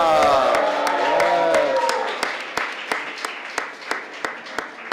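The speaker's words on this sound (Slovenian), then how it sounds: "en aplavz za Domna." At a festival press conference in Ljubljana, a voice speaks first, then clapping takes over as a sparse, evenly spaced series of distinct claps that quiets toward the end.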